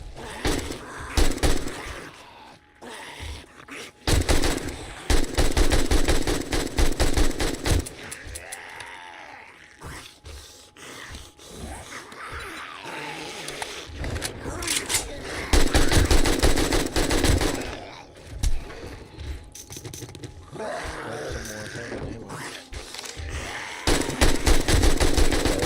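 Rifle gunfire in the survival video game 7 Days to Die during a blood moon horde night, with repeated loud shot bursts spread through a dense, busy game soundscape.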